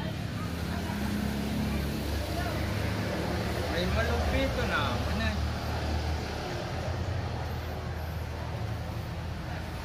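A Raider 150 FI motorcycle on a test ride gives a steady engine and wind rumble throughout, with a rider talking over it.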